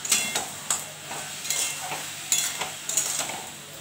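A spoon stirs sugar into fruit chutney in a pan, several sharp scraping strokes against the metal at an uneven rhythm over a faint sizzle, close and clear, with no talking.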